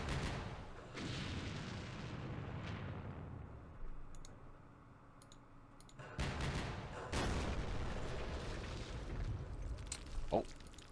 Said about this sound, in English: Oh, we have a mortar here. Let's use the mortar.